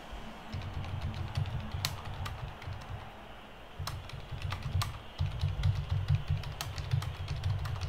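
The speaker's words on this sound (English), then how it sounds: "Was that angry typing then?" Rapid, forceful keystrokes on a computer keyboard during a Blood Bowl 3 match, a steady clattering run of punchy taps that pauses briefly around the middle before resuming, close and clear with no talk.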